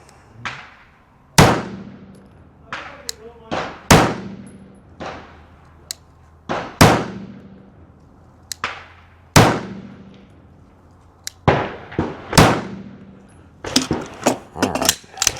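Shots from a SIG P211 pistol fired at a 10-yard target, about fifteen sharp, loud reports arriving singly at uneven intervals, the last few packed closer together, with no talking.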